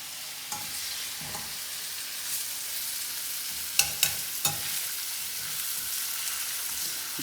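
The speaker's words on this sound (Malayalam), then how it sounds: "ഇട്ടിട്ട് നന്നായിട്ട് ഇളക്കി കൊടുക്കണം." Chicken pieces with curry leaves frying and being stirred in masala in a pan, a steady sizzle throughout with several sharp scrapes and clanks of the spoon against the pan, close and moderately loud, no voices.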